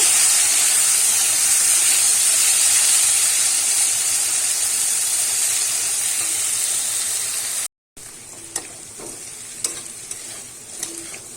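Potatoes fry in hot oil for a Bengali bhetki fish-bone chorchori, a loud, dense, continuous sizzle close by. After a brief cut the frying is quieter, with a few spatula clinks against the pan.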